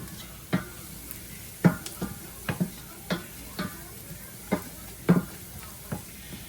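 Food sizzles in a hot pan with salt while being stirred, with steady frying under regular scraping strokes roughly every half second, fairly close and moderately loud.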